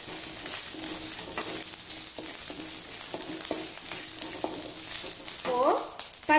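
Chopped ginger sautéing in a pan for poori masala, giving a close, steady sizzle with scraping stirs from a spoon and a faint voice near the end.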